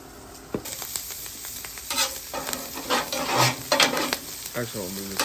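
Blackened catfish fries in butter on a Blackstone griddle, giving a close, steady sizzle with bursts of stirring and scraping and a short clatter near the end, with no talking.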